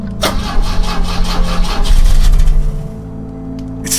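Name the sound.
car engine cranking but not starting, from video game The Drifter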